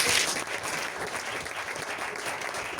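Congregation applauding and cheering in a church worship service, a dense, steady wash of clapping that fills the space throughout, loud and close with no talk over it.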